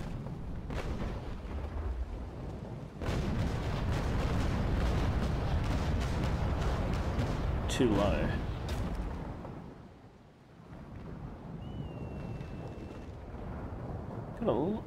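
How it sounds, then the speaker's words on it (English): Heavy cannon fire from a sailing warship's broadside in a naval video game, dense booming and rumbling for several seconds, then a lull before more distant blasts, under faint game sounds. "we may actually be able to get a decent broadside off here"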